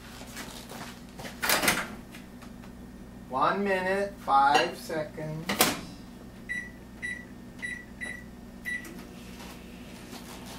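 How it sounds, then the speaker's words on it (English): A microwave oven in a home kitchen clunks shut and hums while heating a cup of milk, with a few beeps, dish clatter and brief talk over the running. "Okay, put that in the microwave."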